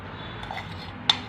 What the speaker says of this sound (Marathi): हे सगळं आपण पाव किलो तेल या लोणच्यामध्ये मिक्स करायचं आहे